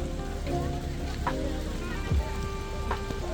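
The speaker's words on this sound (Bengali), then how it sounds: "বাইরে যদি দেখায় বেশ ভালো পরিমাণ বৃষ্টি হইতেছে।" Heavy rain falls outside a train stopped at Joydebpur station, a steady hiss of rainfall on surfaces with low rumbling and faint background voices beneath it, moderately loud throughout.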